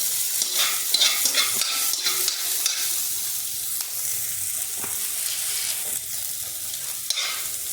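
Garlic and onion sautéing for Filipino pork adobo, a steady sizzle in hot oil with the scrape and clatter of a spatula stirring in the pan, close and continuous without talk.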